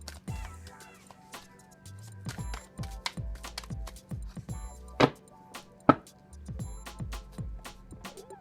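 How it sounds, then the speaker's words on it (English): Tarot cards are shuffled by hand close up, with soft irregular riffles, taps and sharp clicks of the deck in bursts over quiet background, and a voice speaks softly at times. "let's go ahead and shuffle up these cards"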